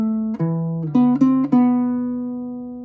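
Baritone ukulele picking a short melodic phrase from a Frozen II song, a few clear plucked notes ringing out and sustaining into a long decaying final tone, close and alone with no voices.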